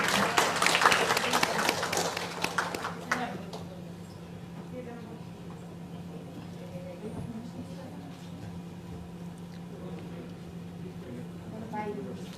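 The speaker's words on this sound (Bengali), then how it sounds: "তাকে সবাই করতালির মাধ্যমে স্বাগত জানাই।" An audience at a Bengali literary society's anniversary gathering bursts into applause to welcome a guest from Assam, loud for about three seconds and then fading, leaving a steady room hum and quiet talk.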